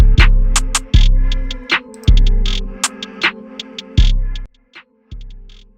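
Beat made in FL Studio plays as an outro with heavy booming bass hits and sharp percussion in an uneven pattern, thinning toward the end as the automation fades it out.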